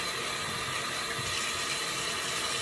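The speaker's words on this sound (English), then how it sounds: "First, you're gonna wet your hands with some water." Water running from a tap onto hands being wetted at a sink, a steady broadband hiss and splash lasting a few seconds, close and even, with no talking.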